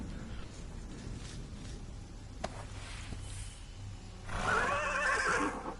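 A horse whinnies in the Ken Follett's The Pillars of the Earth video game, a loud, shrill neigh near the end after a quieter stretch with a faint thump, and no talking.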